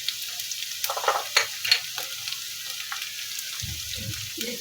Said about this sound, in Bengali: একটু কষাই নিই।